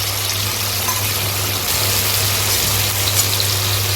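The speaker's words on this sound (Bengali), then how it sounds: "আলুটা একটু লাল লাল করে ভেজে নিতে হবে।" Potatoes fry in a pan with tomato paste, turmeric and salt for a moringa flower dish, a steady, loud, close sizzle and bubbling hiss that runs on evenly throughout, with no talking.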